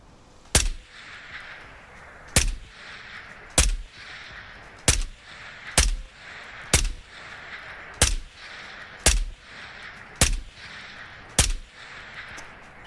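Single gunshots ring out in the video game Ghosts of Tabor, about ten sharp loud reports at a slow, fairly regular pace, each followed by a brief echoing tail, with no talking.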